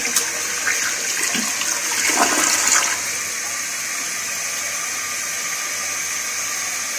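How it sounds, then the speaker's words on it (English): A Briggs toilet flushes after its too-short fill valve was adjusted, a loud close rush of water for about three seconds that settles into a steady hiss of the tank refilling. "Let's see if it has enough to flush anyways."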